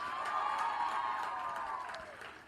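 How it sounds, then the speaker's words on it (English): An audience at a national science and technology exhibition in Kenya cheers and whoops in a sustained roar with applause mixed in, steady and fairly distant, fading slightly at the end. "we get a proper round of applause for Madam Elizabeth Bergen"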